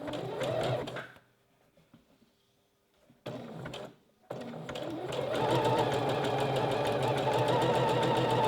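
A sewing machine stitching elastic onto fabric for a bra, loud close whirring runs that stop briefly, restart in a short burst, then settle into a long steady stitch.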